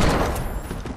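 Gunfire from Fortnite's heavy weapons: a quick burst of several sharp, close shots in rapid succession within a second.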